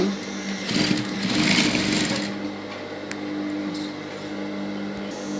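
A sewing machine stitches a bow tie seam with a half-inch allowance, a close mechanical whir that is loudest in the first two seconds and then carries on more quietly, with a few small clicks.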